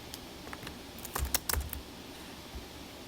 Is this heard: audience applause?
no